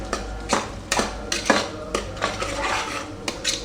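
A utensil stirs a spice mixture of coriander powder, garam masala and turmeric in a pan, scraping and clinking against the metal in a quick irregular rhythm of knocks, close and clear, with no talking.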